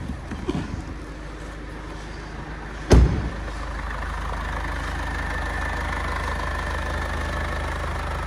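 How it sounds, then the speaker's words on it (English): A Mercedes A200d with a 134 bhp diesel engine idles in a steady, even drone after one sharp thud early on. The engine sounds close, and no one speaks. "And this is the 134 brake horsepower engine."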